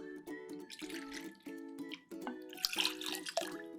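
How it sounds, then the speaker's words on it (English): Two ounces of Lindt chocolate-infused whiskey trickle and splash into a glass while mixing an old-fashioned cocktail, with steady tuned music playing underneath. "we're gonna do a full 2 ounces of this Lindt chocolate infused whiskey"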